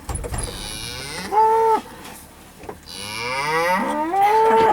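Cattle moo loudly and close around a vehicle in a field, several long calls overlapping in turn, with a calf among the herd and no talk.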